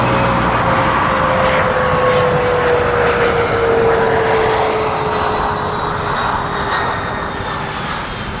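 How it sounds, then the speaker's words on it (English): An airliner takes off from runway 24 at Toronto Pearson, its engines giving a loud, steady roar with a high whine that slowly glides downward as it climbs away. "Clear for takeoff from runway 24, right there."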